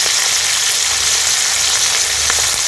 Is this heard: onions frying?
yes